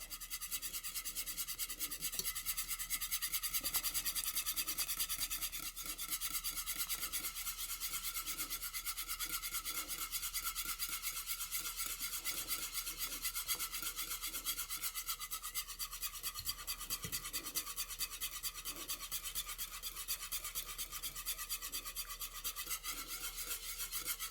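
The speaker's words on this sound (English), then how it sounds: "now we're going to empty this egg mixture into this pan of custard and whisk, same way" Wire whisk scraping steadily around a pan as egg mixture is beaten into custard for a coconut banana cream pie, a continuous close rasping rub with no talk.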